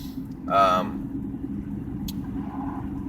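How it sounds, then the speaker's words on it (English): A car passes by on a small-town road, a brief swell of engine and tire noise over a constant low traffic rumble, with a person talking over it. "I gotta watch traffic and people are driving like maniacs"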